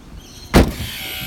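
A single solid thud as the door of a 2008 Nissan Cube Sloper wheelchair access vehicle swings shut, close and loud, followed by a low ambient hum.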